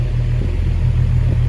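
A steady low rumble with a droning hum, constant and fairly loud, from an antique Emerson 24-inch electric fan, model S60-WA, running on low, off balance, with its base vibrating.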